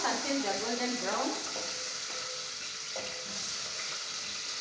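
Onions fry in hot oil for a beef stew, giving a steady close sizzle; a short voice is heard at the start, then faint spoon clinks over the continuous frying.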